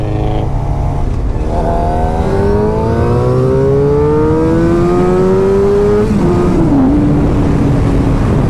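A black 2016 Suzuki GSX-R 750 sport motorcycle accelerates hard, its engine note climbing steadily in pitch through a long loud pull, then easing briefly and rising again as it passes close by.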